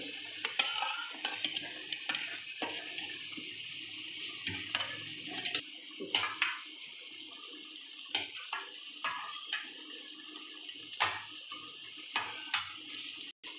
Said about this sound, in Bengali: জল দিয়ে দিলাম। মশলার সাথে কষাবো, সেদ্ধ হয়ে যাবে।